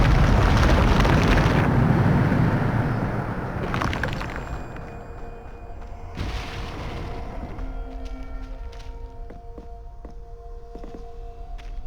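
A Bombarda blasting spell goes off in Hogwarts Legacy: a loud, rumbling explosion with debris crashing for several seconds, then a lower ambient tail of fading crackles, chimes and small magical effects.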